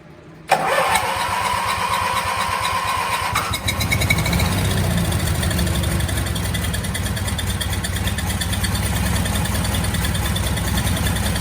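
A Lincoln Weldanpower 225 welder generator cranks and catches after extra fuel, then its engine settles into a loud, steady running drone that holds close for several seconds.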